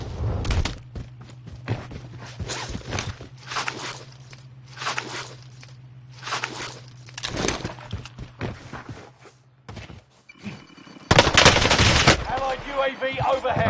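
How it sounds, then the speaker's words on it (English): Gunfire in Call of Duty Warzone with a Bren class loadout: bursts of automatic fire and shots recur across the clip, mixed with game effects, a sustained low hum and a loud burst near the end, while a game announcer voice speaks briefly. "This guy is shooting me in the back."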